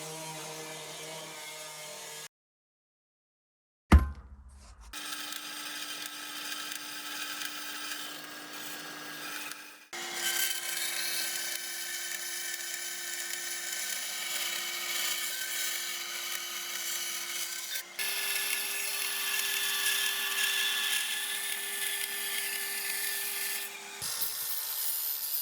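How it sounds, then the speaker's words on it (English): A bandsaw cuts through a piece of metal patch steel for a Subaru WRX chassis repair, a long steady grinding saw tone that rises slightly in pitch as the cut progresses, close and continuous after a brief start, no talk. "First, we need to cut it out on a bit of metal, then we'll take over to the bandsaw."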